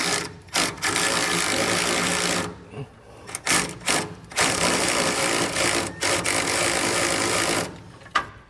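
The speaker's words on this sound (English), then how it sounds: "a ratcheting wrench would work well here, but go ahead and tighten these back ones down" A ratcheting wrench clicks rapidly in long bursts with short pauses between them while tightening trailer hitch bolts under a truck bed. A voice speaks briefly in the gaps.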